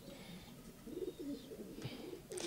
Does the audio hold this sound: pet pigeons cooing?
yes